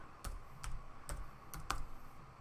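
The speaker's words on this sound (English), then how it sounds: "Now you are watching me type." Fingers tap on a computer keyboard in a quiet room, giving a few soft, irregular keystrokes spaced out over a couple of seconds.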